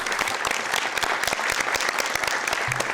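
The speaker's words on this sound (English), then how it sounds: "let's give a big round of applause for Andres Chavez here" Sustained applause fills the room at a Sacramento City Council meeting for Andres Chavez, dense steady clapping from many hands running the whole stretch with no pause.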